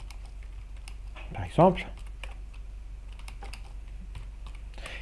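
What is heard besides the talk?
typing C code on a computer keyboard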